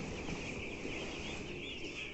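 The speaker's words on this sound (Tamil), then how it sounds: "இந்த சின்ன கோழி தான் பார்த்துட்ருக்கோம்." Small chickens, some of them sick birds culled and kept apart from the flock, make a dense, steady clucking and murmuring close by without a break.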